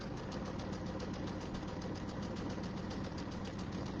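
A sewing machine stitches a quarter-inch quilt seam over pins, a steady fast mechanical whir and rapid needle knocking that runs evenly throughout, close and alone.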